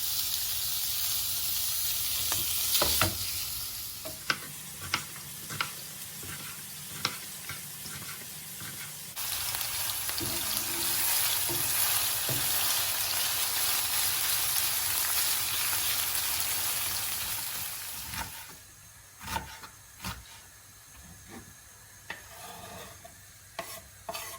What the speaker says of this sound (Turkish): kıymalarım kavruldu